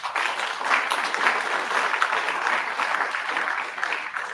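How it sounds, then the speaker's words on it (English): An audience at an ancestral wisdom symposium claps together in a dense, sustained burst of applause that stays fairly even throughout, with no speech over it. "Won't you clap for that?"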